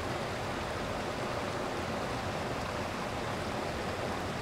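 A waterfall and river in lush natural surroundings, heard as a steady, dense rush of falling and flowing water that fills the whole clip evenly with no voices.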